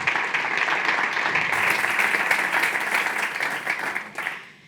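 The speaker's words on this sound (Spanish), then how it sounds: "por favor, un aplauso." Audience applause at a cybersecurity investment round-table event, a sustained wash of many hands clapping at steady loudness for several seconds before tapering off at the end.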